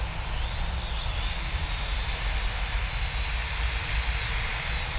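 GTENG T905C RC airplane flying in fog, a continuous high whining motor buzz with a wavering pitch over steady wind-like rumble, fairly close and constant throughout.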